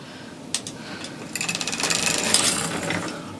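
A sock knitting machine gives small metallic clicks and a short ratcheting burst as a needle is raised, close and fairly quiet.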